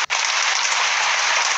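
Steady rain in the video game Distraint, a dense even hiss that runs unbroken through the whole stretch after a brief dip at the start, with no voices over it.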